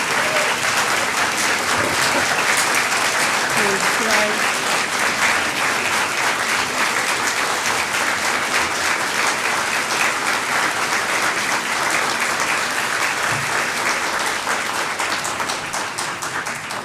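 Sustained audience applause at the close of a lecture-series conversation, a dense, loud, even roar of many hands clapping that holds steady throughout, with faint voices underneath.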